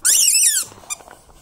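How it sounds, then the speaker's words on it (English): A dog's squeaky toy ball squeezed once in a long, high, wavering squeak, followed by a brief second chirp, close and loud in a quiet room. "Let's squeeze it. Let's squeak it."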